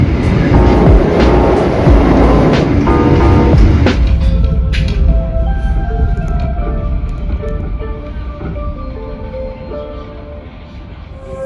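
Gumarang business-class passenger train pulling into Pemalang station at night, a loud close rumble and rattle of the carriages that eases and fades over the second half as the train slows to a stop, with no talk.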